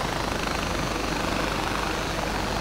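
Helicopter flying in the video game Far Cry 4: a loud, steady rotor and engine drone with a fast pulsing chop, continuous throughout and without speech.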